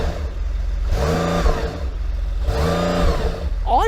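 A Porsche 911 Turbo S engine, stationary, revs twice in quick bursts, each sharp rise and fall standing out clearly over a steady low idle rumble, heard from outside the car.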